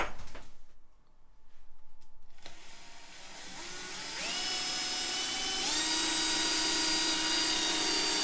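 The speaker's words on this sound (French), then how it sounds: "Je vais le faire sur la perceuse, tenez." A power drill fitted with a hole-making bit bores into plaster, starting with short bursts and then settling into a loud, steady high whine that rises in pitch as it speeds up, with no talking.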